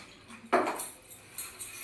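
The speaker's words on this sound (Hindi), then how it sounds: "अब ये चावल को भी हम वॉश कर लेते हैं।" Metal clinks against a steel pot as rice is washed by hand, one sharp clatter followed by softer scraping and rattling in a quiet kitchen.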